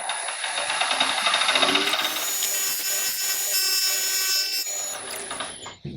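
Wood lathe turning a green wood bowl at about 1200 RPM gives a steady, loud, hissing whine that holds through the whole stretch, with no talking, then tails off briefly near the end.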